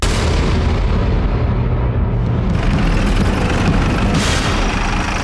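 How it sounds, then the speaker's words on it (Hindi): A dramatized kitchen blast for a crime show, heard as a loud sustained roar of explosive noise that fills the whole clip, with a brief extra burst near the end and no voices. "बड़ी जोर का धमाका हुआ था, किचन का विंडो से उड़ गया"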